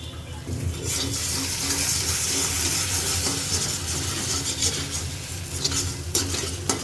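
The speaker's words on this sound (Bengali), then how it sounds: "আমি এই যে ডিমটা দিয়ে দেবো" An egg cooking in a hot pan for a simple breakfast, a continuous close sizzle with steady scraping and stirring throughout, no talking.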